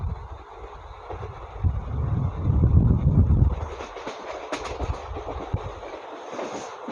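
A Shalimar to Puri train runs steadily with a rumbling, rattling carriage noise and wind buffeting, growing louder midway before settling, with faint clicks and no talk.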